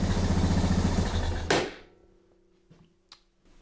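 A motorcycle engine held at high revs, around 5,000 RPM, roars loudly and steadily, then cuts off abruptly; faint clicks and a low hum follow in the near silence.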